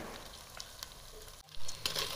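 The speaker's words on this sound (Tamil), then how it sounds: "இப்போ நம்ம வந்து வதக்கி வச்சுருக்கிற நண்டு சேர்த்துக்கலாம்." Crab pieces sautéing in oil with ginger garlic paste for a crab kulambu, a steady close sizzle with light stirring scrapes and a louder burst of frying partway through as the crab hits the pan.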